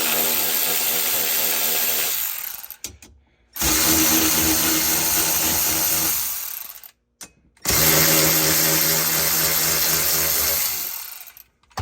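A power tool removes four 12 mm bolts from a Kawasaki Ridge XR seat, running in three loud, close, sustained whirring bursts of about three seconds each, separated by short silent pauses.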